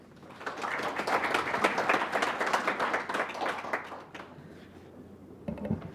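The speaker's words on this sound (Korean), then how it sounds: "큰 박수 부탁드리겠습니다" Dense audience applause fills a hall at a parliamentary forum on the drone industry, loud and steady for about four seconds before tapering into faint scattered claps.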